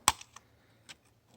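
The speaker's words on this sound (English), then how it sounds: "Here we need a small flat screwdriver to pry the locking tab out like that" Small flat screwdriver prying the locking tab out of a mirror wiring connector on a 2017-2023 Ford Super Duty: one sharp plastic click followed by two lighter ticks, close and quiet, no talk.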